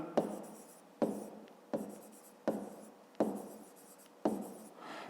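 A pen writes numbers for a fifth-grade maths exercise, six scratchy strokes in a steady rhythm about a second apart, close and soft, with no voices.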